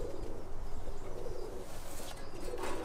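Roller pigeons in a loft coo softly and continuously, a low murmuring chorus of many birds close by with faint wing flutters and chirps mixed in.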